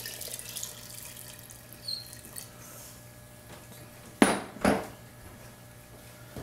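Three cups of coffee are poured into a pressure cooker of American chop suey: two splashy pours, close and fairly loud, against a quiet kitchen hum.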